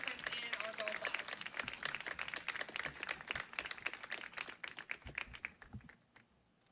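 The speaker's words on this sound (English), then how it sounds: "One more time, a round of applause for all of these wonderful people who have made a difference in our girls' lives." Audience applause for softball teacher introductions, a dense crackle of many hands clapping that runs steadily, then thins and fades out toward the end, with speech underneath.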